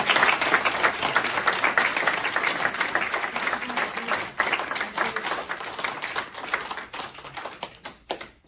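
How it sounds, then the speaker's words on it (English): A large crowd applauds graduates at a job-training graduation ceremony, dense and steady clapping that carries on for several seconds before thinning to a few scattered claps at the end. "Let's give them a round of applause"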